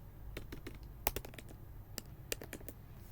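Keystrokes on a computer keyboard while writing JavaScript code, a steady run of light clicks with a few sharper, louder taps, close and alone with no talking.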